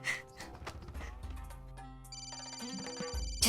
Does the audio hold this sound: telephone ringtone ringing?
yes